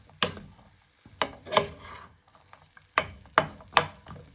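A wooden spoon scrapes and stirs onions in a hot pan, making a series of sharp, irregular scraping strokes over a faint sizzle.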